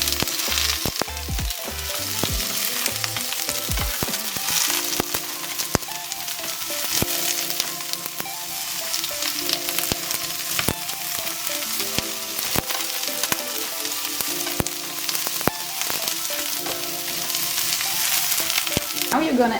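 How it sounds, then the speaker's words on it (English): Food for reimagined maultaschen sizzles steadily in a hot pan, a close, continuous frying hiss broken by occasional crackles and stirring clatter, with no talking. "Fry it for about 3 minutes"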